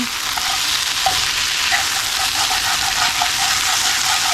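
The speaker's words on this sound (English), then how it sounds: "So I got my sausage browning over here with my onions and peppers and garlic" Sausage browns in a pot with onions, peppers and garlic, giving a loud, steady sizzle and crackle with occasional scraping and stirring clinks close by.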